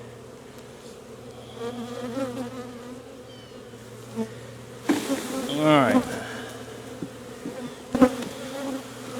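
A dense, close swarm of honeybees, shaken from a hive frame in fall, hums and buzzes, swelling suddenly in a loud burst midway, with a brief spoken word under the drone.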